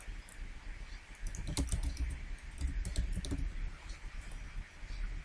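Rapid typing on a computer keyboard, a close, dense patter of key clicks at moderate level running throughout, busiest in the middle, with no talk.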